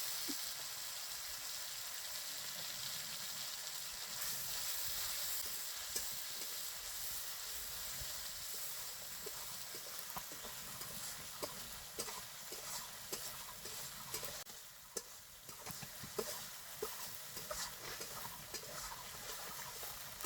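Cumin paste frying with bay leaf and whole spices in hot oil in a vegetarian mixed-vegetable dish, a steady soft sizzle with scattered stirring ticks and scrapes throughout, moderately close.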